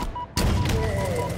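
A heavy weapon fires in Halo Infinite, a sudden loud blast that cuts in sharply and rolls into a sustained, dense rumble of booming shots and ringing tones lasting over a second.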